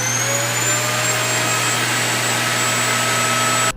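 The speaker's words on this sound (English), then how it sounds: "vacuum cleaner." A vacuum cleaner runs steadily and loudly, a constant broadband whoosh with a low motor hum and a faint high whine, unbroken for several seconds before cutting off at the very end.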